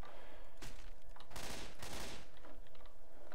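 Rapid automatic Mini-Uzi fire in the video game Left 4 Dead 2, several short bursts of crackling shots close up, with no talk over them.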